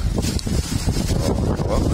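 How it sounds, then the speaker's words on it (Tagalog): Strong wind roars steadily across the microphone, a continuous loud buffeting rush with no talk over it. "Lakas po ngayon ng hangin."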